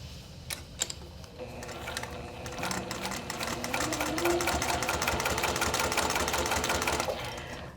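A sewing machine stitches along the edge of a faux leather handle strap, a fast steady mechanical whir that starts with a few clicks and then runs continuously, close up with no talking.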